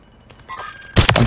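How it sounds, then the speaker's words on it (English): Gunfire in a Fortnite trios match near a gas station: faint tonal game sounds give way to a couple of sudden, loud, sharp bangs close together at the end. "Oh, I'm being shot here, from gas station"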